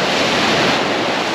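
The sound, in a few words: Black Sea waves crashing on the beach during a storm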